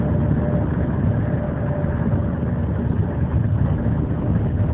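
A motorcycle engine idling: a steady, low, throbbing rumble that stays even throughout, heard close by with no talk over it.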